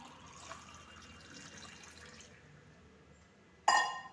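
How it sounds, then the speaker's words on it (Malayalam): Spiced buttermilk made with ginger, bird's eye chilli and Indian borage leaves pours softly into a glass, a faint low trickle that ends in a sudden bright clink of the glass. "ഇനി ഇത് നമ്മളൊരു ഗ്ലാസ്സിലേക്ക് ഒഴിക്കുക"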